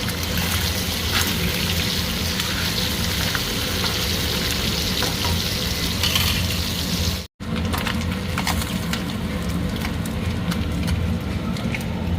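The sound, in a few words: tangra fish frying in oil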